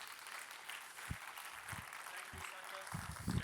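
Steady applause from a crowd, a dense wash of clapping at moderate volume with a few low thumps scattered through it.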